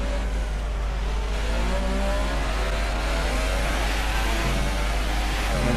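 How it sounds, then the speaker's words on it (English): An F1 car's engine in F1 2018 screams at high revs, held too long before each upshift, a loud continuous whine climbing in pitch in repeated sweeps with no talking over it. "And here's me absolutely torturing my engine and gearbox again, not upshifting soon enough"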